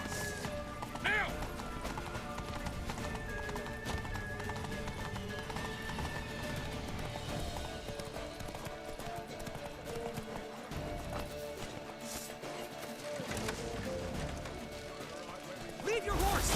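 Horses gallop in The Witcher 3 with a steady, rapid clip-clop of hooves on a hard surface, running the whole stretch under continuous game music and shouted voices, with a brief whinny partway through.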